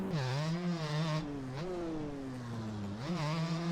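Two-stroke dirt bike engine in the motocross game MX Bikes, held wide open with a buzzing, rising and falling whine through gear shifts, loud and continuous with no talk.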